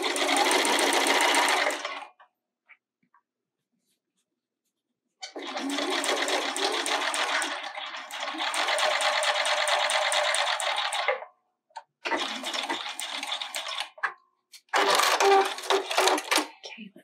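A sewing machine stitches a seam in loud, steady whirring bursts: one short run, a longer one, then two brief runs separated by silent pauses.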